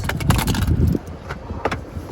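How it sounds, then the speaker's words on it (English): Genuine Toyota remote keys for a 2018 RAV4 GXL jangle close up in a brief metallic clatter, followed by a few lighter clinks as they settle. "2 remote keys, as you can see, they are genuine Toyota keys"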